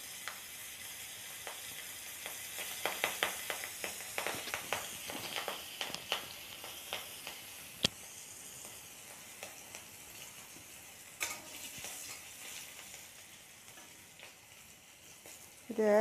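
Fenugreek seeds and dried chili sizzling in hot oil, a steady close frying hiss with a burst of crackling pops early on, thinning to a softer sizzle with occasional sharp ticks.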